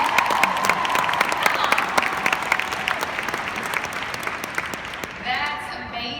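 An audience at a product presentation claps and cheers in a dense, loud, sustained wash. Someone talks over the applause, which fades somewhat toward the end.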